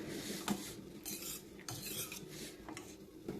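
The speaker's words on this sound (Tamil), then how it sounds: "நல்லா கலக்கி விடுங்க" A spoon scrapes and clinks against a metal pot while thick horse gram (kollu) dal is stirred, with irregular close knocks and soft scraping strokes in a quiet kitchen, no voices.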